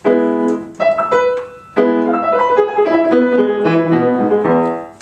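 Solo piano playing a passage from Beethoven's second sonata, with quick repeated chords and running melodic figures that ring clearly and fill the space, with no voices.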